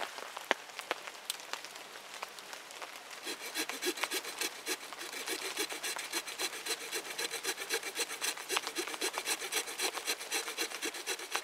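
A hand saw cuts through wood to make a pair of roughly 24-inch uprights for an improvised bucksaw, with steady back-and-forth strokes that grow into a fast, even rasping rhythm, close and clear.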